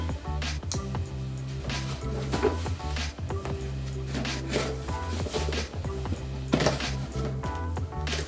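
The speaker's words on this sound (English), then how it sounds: "Now you can tell since I'm cutting this open" A pocket knife slicing open a cardboard box, heard as close, rough scraping and tearing strokes repeating over a low steady hum.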